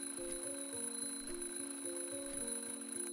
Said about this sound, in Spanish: Sonó la alarma.